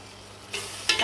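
Tomato pachadi stirred in a hot pan, a spoon scraping and swishing through the mixture in two or three short strokes over a faint sizzle, close and with no voices.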